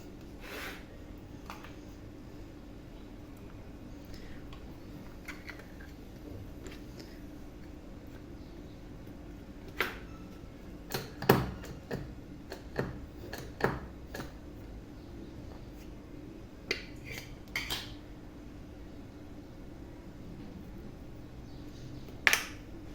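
A patterned stamp is pressed onto maqrout semolina dough, giving soft rubbing and scraping with a few faint wooden taps and clicks in a quiet kitchen, with no talking.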